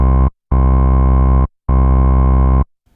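A buzzy synth bass note repeats three times in even, sustained bursts, slightly gritty from a low-pass filter with about 25% drive and dulled at the top, with short silences between.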